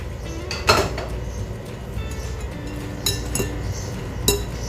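Banana chips are stirred with sugar syrup in a pan, a utensil clinking and scraping against the metal in a few sharp knocks over a steady background hum.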